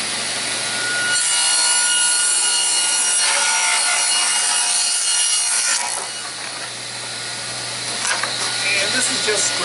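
Scrap 3/8-inch plywood being sawn in a workshop, a steady rasping cut that runs for several seconds, pauses briefly near the middle, then resumes, with some talk over it.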